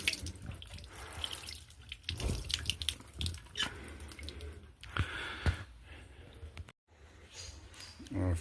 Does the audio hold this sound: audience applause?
no